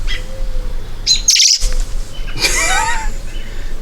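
Birds chirp and tweet against a steady outdoor hum, with a sharp high call burst midway and more chirping after, fairly close.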